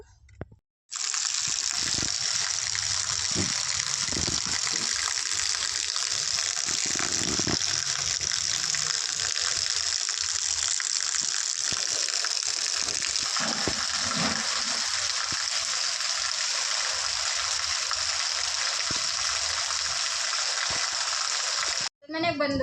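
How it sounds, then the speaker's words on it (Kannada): Heavy monsoon rain pours steadily in a loud, continuous broadband wash with scattered low thumps and drips, ending abruptly at the close. "ಮಳೆ ನೋಡಿದ್ರೆ ಇಷ್ಟೊಂದು ಜೋರಾಗಿ ಬೀಳ್ತಾ ಇದೆ ಮಳೆ ಇವತ್ತು"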